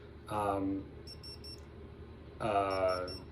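Two bursts of high electronic beeping from a Klein Tools voltage tester, each a short run of rapid tones, separated by a pause with a low hum in between.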